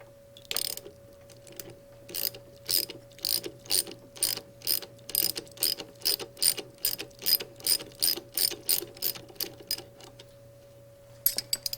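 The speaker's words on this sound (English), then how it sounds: "Remove the bolt that holds the male rod end of the counterweight to the swash plate." Repeated ratcheting clicks from a wrench loosening the bolt that holds the counterweight's male rod end to the swash plate of a Rotorway helicopter during maintenance, a steady run of about two dozen close, crisp strokes over a faint hum.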